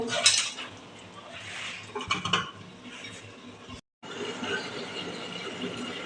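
A metal lid clanks onto a pot of paneer curry with clattering and scraping, then a short drop to silence before a steady, softer cooking hiss carries on.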